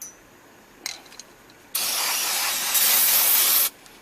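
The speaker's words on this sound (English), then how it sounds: "I use brake cleaner. I like using brake cleaner because it's more safe." Brake cleaner sprayed from an aerosol can onto the front brake parts of a 2004 Toyota Camry 2.4L during a brake replacement: a close, steady hiss of about two seconds, preceded by a few small clicks, with no talking.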